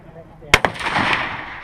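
A .308 rifle firing a Hornady 168-grain A-Max load, one sharp loud crack followed quickly by a second report and a rolling echo outdoors.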